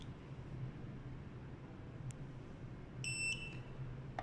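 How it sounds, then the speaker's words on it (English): A garage door keypad gives a single short, clear electronic beep after its reset button is held, over a low steady hum and background hiss; no one speaks. "You will hear a beep"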